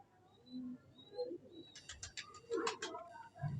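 Several soft coos from a pigeon, a Kabgar Zeeri female with a crest, come close up and faint, with brief chirps and light rustling between them.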